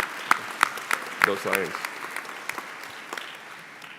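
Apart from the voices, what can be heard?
commencement audience applause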